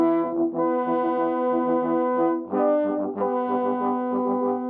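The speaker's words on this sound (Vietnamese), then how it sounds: "Đó là kèn Pháp." A French horn plays a warm, mellow sustained melody of several held notes, close and clear, with no voices over it.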